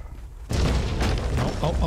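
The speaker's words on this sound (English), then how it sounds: "let's wait for the loud drum banging in that of the Stygian camp" Heavy war drums pound from a Stygian camp in the video game Conan Exiles, starting abruptly and continuing as loud, deep, booming beats that repeat with a steady rhythm.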